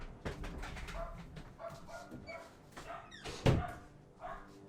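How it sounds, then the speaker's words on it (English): A dog barking several times at close range in a room, in short separated barks with one louder bark near the end, alongside faint bird cooing. "And then the dog started barking."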